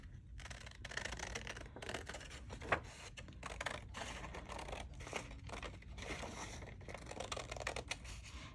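Paper being cut down the middle with scissors while making craft pockets and tucks, a run of close crisp snips and rustles, with one sharp louder snip partway through.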